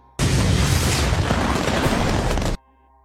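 A grenade detonates in a film action scene, one sudden loud blast that roars for about two seconds as a dense wall of noise, then cuts off abruptly to near silence.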